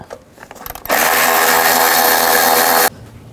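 A power ratchet with a 10mm socket whirs loudly and steadily for about two seconds, backing out a bolt on the engine of a 2010-16 Buick LaCrosse during a spark plug job, then cuts off abruptly.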